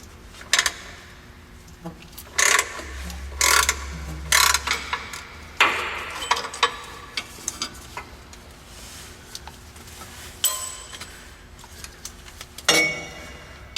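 Ratchet working 15 mm bolts off a car starter motor: scattered sharp metallic clicks and taps with short bursts of ratcheting and tool contact, fairly close, alone with no talking.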